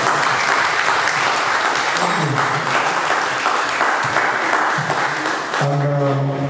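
An audience at an Egwuregwu event in Enugu claps steadily, dense applause filling the room throughout, with brief tonal sounds near the end.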